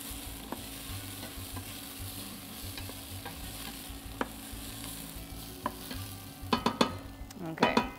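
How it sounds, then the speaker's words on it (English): About four cloves of minced garlic fry in a pan with a soft, steady sizzle, punctuated by occasional sharp clicks and a burst of louder scraping and stirring near the end. "So right now I'm gonna add in the chopped garlic. And this is about 4 cloves of minced garlic."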